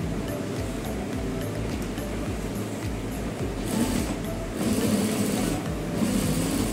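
A sewing machine runs steadily while stitching a round collar, with a continuous whirring hum that briefly rises in intensity near the end, and no talk is heard over it.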